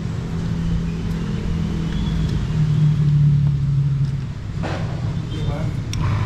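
An INTOP automatic water booster pump for hot water runs with a steady, fairly quiet electric hum. The tone stays even and close throughout, with a few faint clicks and knocks.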